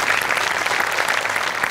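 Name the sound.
audience applause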